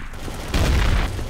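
Grenade blast in Trouble in Terrorist Town, a loud, broad boom starting about halfway through and rumbling out to the end, over a low game background.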